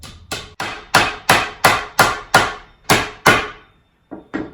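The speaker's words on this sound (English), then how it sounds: "hammer her in." Hammer blows drive nails into wood while a life-size Halloween mummy is built, ten sharp, loud strikes in a steady rhythm, a short pause before the last two, with no talking.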